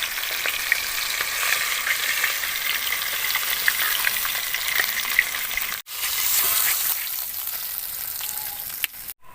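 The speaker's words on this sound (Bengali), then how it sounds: "মাছগুলো ভেজে নেওয়া হয়ে গিয়েছে" Pieces of catla fish fry in hot oil in a pan, giving a steady, close sizzle and crackle throughout with a brief break near the middle, and no talk.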